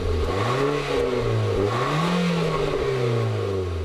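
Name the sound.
2017 Nissan Sentra NISMO 1.6-liter turbo four-cylinder accelerating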